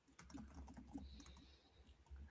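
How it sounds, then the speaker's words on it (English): Someone types on a computer keyboard, a quick run of soft, irregular key taps at a moderate distance over a low background rumble. "I hear someone pecking at the keyboard"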